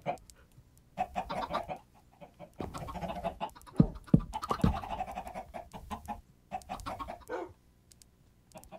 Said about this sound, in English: Fortunately, I still have a few chickens left in here.